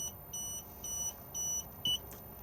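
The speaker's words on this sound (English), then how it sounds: "it will beep at us and flash because the engine currently isn't running" A 2020 Auto-Sleepers Warwick Duo motorhome control panel warning beep, sounding because the engine is off, repeating in short, evenly spaced pulses, with one slightly different higher tone near the end, fairly quiet and alone.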